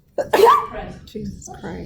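A single sharp sneeze bursts out during a radiotherapy dosimetry lecture, close and loud, followed at once by a person speaking.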